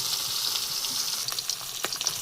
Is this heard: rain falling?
no